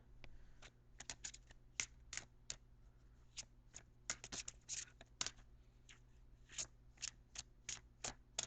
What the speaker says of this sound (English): Now I'm going to pull your Angel Oracle card.